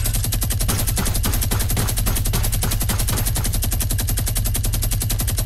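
A minigun fires in Fortnite as a rapid, unbroken stream of loud, close shots that lasts the whole stretch without pause.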